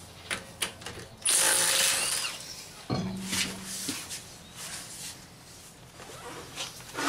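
An impact wrench loosening lug nuts on the rear wheel of a Lincoln MKX or Ford Edge: short bursts of rattling hammering, one loud and several seconds long, another shorter, amid light clatter, with no talking.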